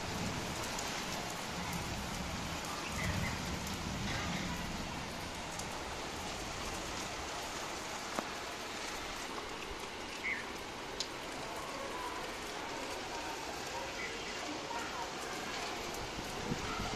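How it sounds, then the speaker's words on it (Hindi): Steady rain falls during the rainy season, a continuous broadband hiss of drops on surfaces that holds even and moderately loud throughout, with a few faint, brief taps standing out. "ये देखो बारिश का मौसम आ गया"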